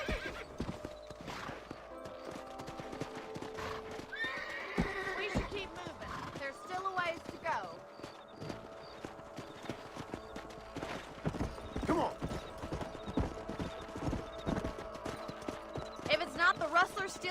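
Horses in the Red Dead Redemption video game trot and gallop with rapid, rhythmic clip-clop hoofbeats, broken by several loud whinnies and neighs. Speech from game characters is heard over the hooves, alongside background game sounds.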